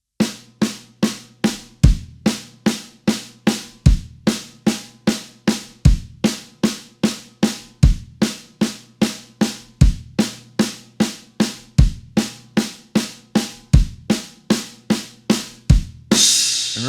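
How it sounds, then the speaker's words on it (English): Drum kit playing a repeating five-note block, four quick single strokes alternating hands on a drum followed by a kick, steady and evenly spaced, close and loud, cycling about eight times with no talking. "It's just 4 notes with your hands, right, left, all single strokes followed by a kick."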